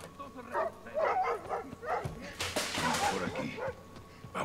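A dog in the Modern Warfare 2 campaign, near the border crossing, gives a run of excited barks and whimpering yips at close range, mixed with people's voices and gameplay noise.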